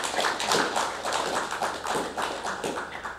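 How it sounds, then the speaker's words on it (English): Applause from a parliamentary forum audience at a SADC PF debate thanking the speakers: dense, steady clapping from many hands, fairly close and even, with no talk over it. "We can applaud them with a hand, please."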